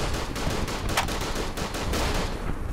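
Rapid machine gun fire in the World War I shooter game Verdun, dense bursts of crackling shots in quick rhythm, loud and continuous without a break.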